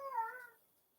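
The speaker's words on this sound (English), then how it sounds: "That's a cat. That's a big giant kitty." A cat gives a single short meow, close and moderately loud, fading quickly into quiet.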